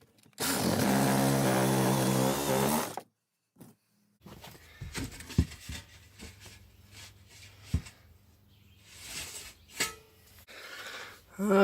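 A power drill bores a starter hole during a homemade geothermal evaporative cooler build, producing a loud, steady whine for a couple of seconds, followed by quieter clunks and handling noises.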